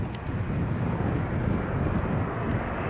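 Airbus A340-600 airliner on arrival to runway 09L at Heathrow, a steady broadband engine roar with wind rumble, moderately distant and constant throughout.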